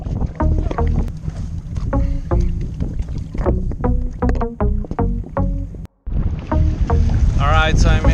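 A boat is rowed into a Caribbean lagoon; the oar strokes and water splashes come in a loose rhythm under steady wind buffeting on the microphone, with a brief dropout near the end.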